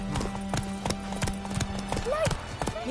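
Roach, the horse in The Witcher 3 game, trots with steady rhythmic hoof clip-clops close by, under a low droning background and a brief whinny-like call near the end.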